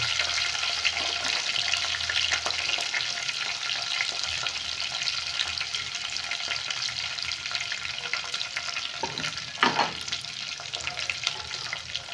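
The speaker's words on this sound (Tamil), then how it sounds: "இந்த பூண்டு கொஞ்சம் நேரம் நல்லா வேகணும்." Chopped garlic fries in a pan with a soft, continuous sizzle and crackle, quiet and steady, broken near the end by a brief clatter of stirring.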